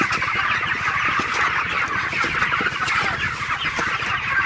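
Many broiler chickens cluck and chatter together in a dense, continuous chorus, loud and close, with no talking.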